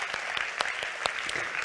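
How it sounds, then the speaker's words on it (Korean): Audience applause at a Christmas thanksgiving church service, brief dense clapping from a gathered crowd, steady and moderately loud, heard alone. "박수 한번."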